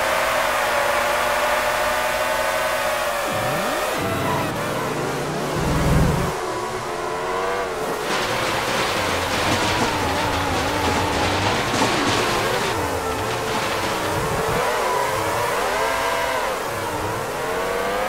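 Formula One race cars in a PlayStation 2 racing game roar through the final lap, high whining engines rising and falling in pitch as they shift and pass, loud and continuous with a brief low thump midway.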